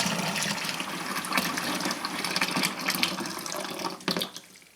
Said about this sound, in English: this is where the water is actually entering the wash tub, and you need to fill the wash tub until it's about 2/3 full.